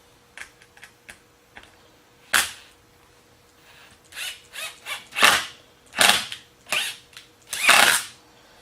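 A number 8 wood screw is driven into curved O scale flex track in short, intermittent bursts of a small driver, with a few light clicks and handling noises between them, close and without talking.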